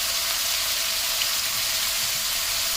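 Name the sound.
chicken cooking in a pan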